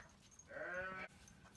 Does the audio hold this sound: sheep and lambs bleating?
yes